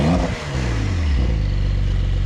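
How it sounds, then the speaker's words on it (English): Porsche 911 Carrera S with active exhaust revving, a deep loud engine note that drops sharply from a blip and then settles into a steady, rumbling idle close by. "I will show you what the exhaust sounds like right now."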